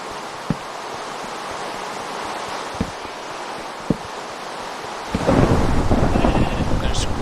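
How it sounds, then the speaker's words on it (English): Thunder from green lightning in Minecraft, heard as a few sharp isolated cracks followed by a swelling, loud rumbling roar over steady rain-like noise. "There's green freaking lightning?"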